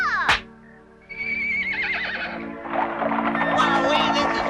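A cartoon horse pulling a coach to a royal ball lets out a loud, close whinny that rises and wavers, with clip-clopping hooves and lively cartoon music carrying on underneath.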